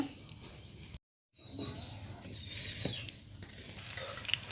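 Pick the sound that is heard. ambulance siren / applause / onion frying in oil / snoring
onion frying in oil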